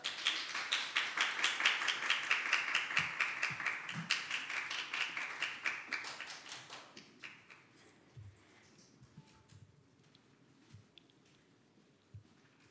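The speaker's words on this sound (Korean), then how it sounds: "뜨거운 박수 부탁드립니다." An audience at a K-pop chart announcement ceremony claps in a dense burst of applause that slowly fades out, followed by scattered faint taps and room noise.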